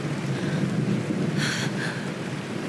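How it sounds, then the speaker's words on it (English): Steady rain with a brief low rumble of thunder in the video game Honkai: Star Rail, a continuous wash of rainfall throughout with a short burst partway through. "It's raining!"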